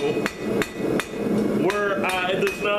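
Hammer blows on hot steel as a scrap-pile BBQ fork is forged, struck in a steady rhythm of sharp ringing hits, close and loud, with a few bright resonant clangs toward the end.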